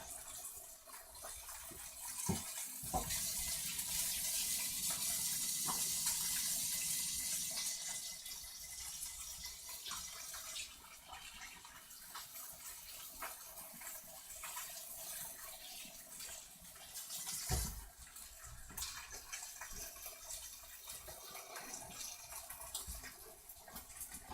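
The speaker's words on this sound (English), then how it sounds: "wash hands again" Tap water runs steadily in a kitchen sink while hands are washed before cooking fried rice, a broad hiss with a couple of brief clunks and splashes, no talking.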